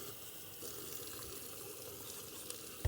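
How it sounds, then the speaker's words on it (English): Hot water runs steadily from a tap into a sink, a continuous splashing hiss that stays even throughout, ending with a brief louder knock near the end. "so we get the hot water on."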